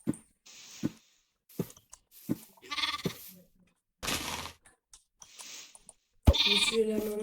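Sheep and lambs bleat in a video game, several separate bleats spaced through the stretch, some short and some drawn out, with a louder burst near the end.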